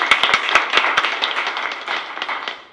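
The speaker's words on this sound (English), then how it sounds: "let's do a round of applause for them" A small group at a school board meeting gives a short round of applause, sparse, distinct claps close by that thin out and fade.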